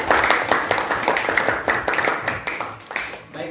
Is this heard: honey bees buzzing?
no